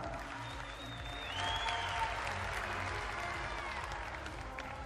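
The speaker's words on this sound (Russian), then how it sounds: "Колизей, ваши аплодисменты бойцам!" An arena crowd applauds fighters at a combat sports event, a dense wash of clapping that swells after the first second and holds steady, with faint cheering and whistles mixed in.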